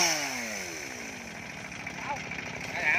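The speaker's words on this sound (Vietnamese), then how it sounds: "Để coi chiếc máy cày này nó kéo cây này như thế nào nha." A tractor engine drags a large tree, its steady mechanical drone running throughout with a rising, revving pitch, while someone talks over it.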